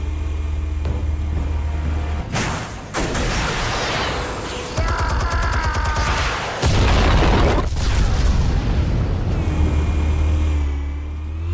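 Heavy booming explosions and crashing debris roll through a scene in Batman: The Telltale Series, loud and sustained with bursts and rumbling over a low steady hum.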